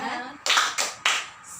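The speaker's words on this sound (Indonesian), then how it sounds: "Tepuk semangat." A class of students doing the Indonesian 'tepuk semangat' cheer, clapping in three sharp, loud group bursts in a quick rhythm with short gaps between them, close by in a classroom.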